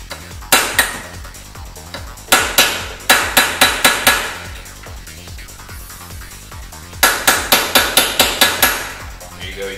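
A hammer drives a punch against the front hubcap of a Porsche 944 Turbo. Three clusters of sharp, ringing metallic strikes fall in quick regular runs, loud and close, with pauses between the groups.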